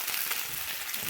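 Curry leaves frying in a pan for a Chinese potato curry, giving a steady, soft hiss of sizzling oil with no speech over it.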